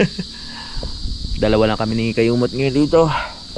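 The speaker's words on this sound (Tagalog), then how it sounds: "Makakanta na naman yung mga kuliglig." Crickets chirp at night at a private resort, a steady high-pitched trill running throughout while someone talks over it close to the microphone.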